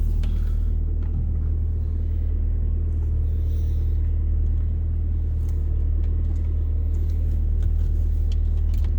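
A Jeep Compass creeps slowly around to the back, its steady low engine rumble and road hum continuous and close throughout, with no talking.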